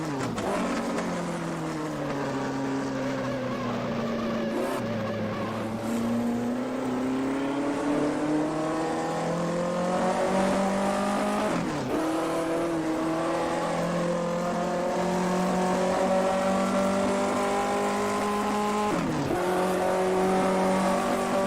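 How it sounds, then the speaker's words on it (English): A 1958 Formula One car in a racing sim at Silverstone drones steadily at high revs, its engine note rising and dipping through gear changes while tires squeal repeatedly through corners, loud and close. "the tire squealing noise is kind of jumped up in sims a bit so that you can hear what the tires are doing"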